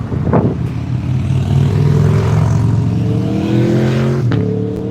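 Motorcycles roar past close by, a loud sustained engine drone with shifting revving harmonics across the whole stretch and a brief surge near the start and end.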